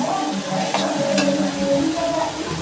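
Ground coriander and cumin being stirred into frying chickpeas for chhola bhuna, a loud, dense sizzle with continuous scraping of a spatula through the pan, close and steady without talking.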